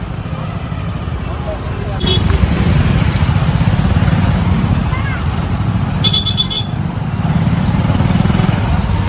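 Heavy traffic of motorcycles and cars crawls along a narrow road near Galteshwar Mahadev temple in Surat on Janmashtami, with a steady close engine rumble, two short horn toots and voices talking over it.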